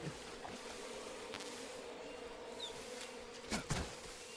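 Bees buzz around a beehive in Metal Gear Solid Delta, a faint steady drone hanging low over quiet outdoor ambience, with a couple of soft thuds near the end and no voices.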